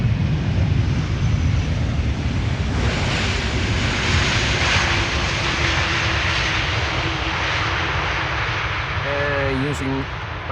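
A Delta Airlines jet, flight 136 from Detroit, landing at Amsterdam Schiphol Airport on idle thrust reversers: a loud, steady, broad engine roar that holds throughout and eases slightly near the end.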